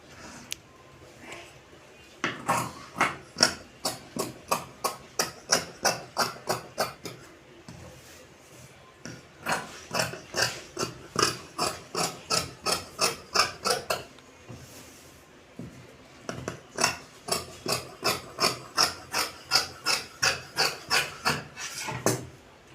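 Scissors cut through chudidar fabric with a lining cloth in a tailoring class, making three long bursts of rapid, evenly spaced crisp snips, each run of blades closing rhythmically with short pauses between them.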